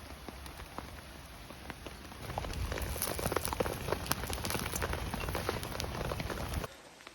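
Torrential rain drumming on a camping tarp during a windy solo wild camp, a dense steady patter close overhead that swells louder partway through before dropping off abruptly near the end.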